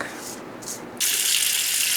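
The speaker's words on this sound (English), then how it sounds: "I have got to wash this dirt out from underneath my fingernails" A sink tap runs while dirt is washed from hands, starting as soft splashing and then turning into a steady, loud, close hiss of flowing water.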